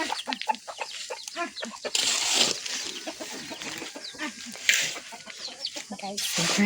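Several chickens cluck in quick, uneven bursts nearby, with occasional louder squawks and scuffling mixed in.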